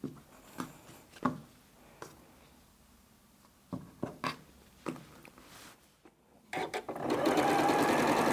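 Sewing machine stitching a scant quarter-inch seam on quilt block background squares, with short bursts of stitching separated by pauses, then a longer continuous run near the end, close and moderately loud.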